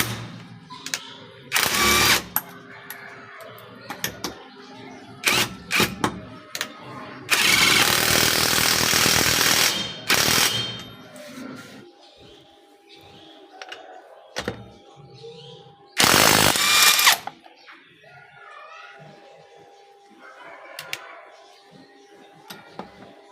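A DeWalt cordless impact ratchet loosening a wheel nut sounds in several loud, hammering bursts of varying length, the longest lasting a few seconds, separated by quieter handling noises and brief talk.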